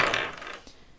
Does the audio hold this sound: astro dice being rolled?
yes